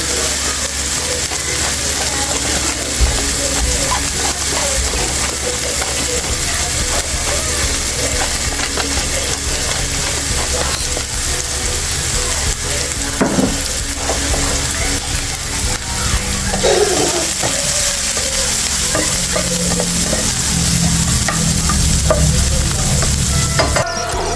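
Squid with black pepper sizzles loudly in a pan for adobo, a constant dense frying hiss close up, broken by occasional scrapes and clacks of a spatula stirring the pieces over nearly half a minute.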